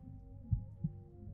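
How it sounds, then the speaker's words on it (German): Heartbeat in the surgery video game Surgeon Simulator 2013: two low, soft thumps about a third of a second apart, faint over a steady hum. "Das ist sehr passend mit diesem Herzschlag, oder?"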